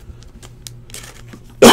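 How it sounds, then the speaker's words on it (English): A man gives one sharp, loud throat clear close to the microphone at the very end, after a stretch of near quiet with only soft ambient ticks. "had to clear my throat"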